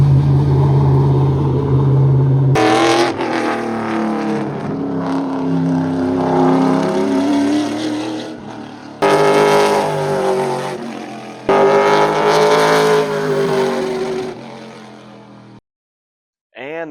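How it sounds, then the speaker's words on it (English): A race car with a newly fitted Chevy motor roars through its first test run, a loud, sustained engine drone that rises and falls with throttle changes and gear shifts, cutting out abruptly near the end. "first run on the new Chevy motor"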